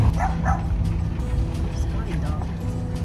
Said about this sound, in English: A Scotty dog.